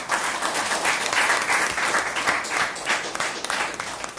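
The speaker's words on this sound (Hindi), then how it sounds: "मैं चाहता हूं उन लोगों के लिए जोरदार तालियां होना चाहिए।" Hall audience at a leaders' meeting program breaks into loud applause, a dense, sustained crackle of many hands with slight swells in intensity throughout.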